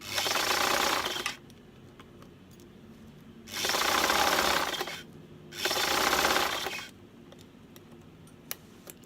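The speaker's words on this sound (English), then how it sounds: "And we're going to continue sewing." A sewing machine stitches a zipper, three bursts of fast, whirring stitching separated by quiet pauses with faint ticks and handling noises between runs.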